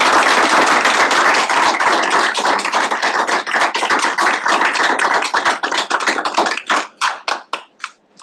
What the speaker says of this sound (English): Can we first give a huge round of applause for Senator?